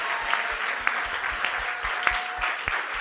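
A church congregation claps along in worship, a steady rhythmic applause with sharp regular beats, fairly close and without talk over it.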